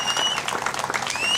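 An audience at a Marathi political rally keeps up steady, loud clapping with whistles cutting through the crowd noise.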